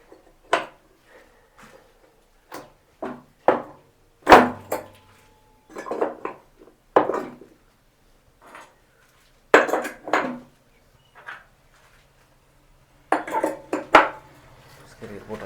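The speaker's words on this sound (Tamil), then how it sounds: "ஃபியூஸ் கேரியர் போடுவோம்." A fuse carrier pushed into a motor switchboard gives a run of sharp metallic clicks and knocks spread out in short bursts, close and clear against a silent background.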